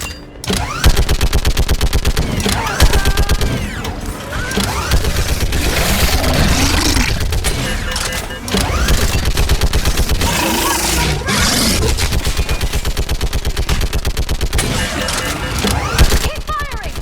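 Rapid bursts of automatic gunfire and sharp weapon shots crackle loudly and almost continuously in the Mass Effect 3 combat scene, layered with impacts and shouted voices.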